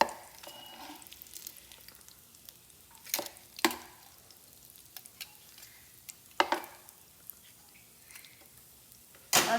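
Mutton chops fry in a pan with a low steady sizzle, broken by a few sharp spatters and clinks of stirring, and no one speaks.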